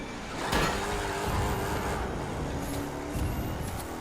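A car engine in the racing game The Crew 2 hums and swells as the car boosts along the track, a moderate, steady motor drone with a couple of rising surges.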